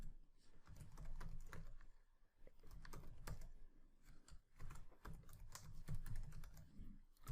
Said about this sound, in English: Okay, so I'm going to type my email address here.